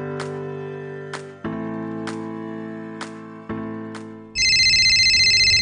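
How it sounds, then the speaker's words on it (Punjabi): A phone ringtone plays as a melodic electronic tune in four repeated phrases, then turns into a loud, sharp trilling ring near the end, close and clear with no talk over it. "Babbi the phone"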